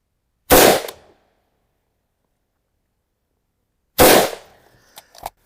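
Two sharp, loud rifle gunshots several seconds apart, each with a brief decaying echo, followed by a few faint clicks, at a shooting range while zeroing a Vector Optics S6 LPVO scope.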